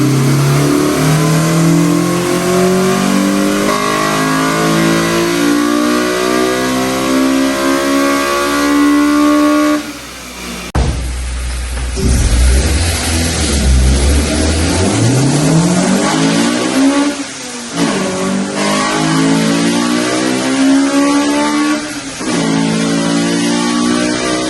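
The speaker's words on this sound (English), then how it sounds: "I'm gonna go ahead and just do a little ripper for you guys to listen to this thing" A Honda B18C engine in an EG hatchback revs hard on a dyno, loud and close, with rising high-rpm pulls, a sudden drop near the ten-second mark, then more climbing revs and throttle blips with no talking.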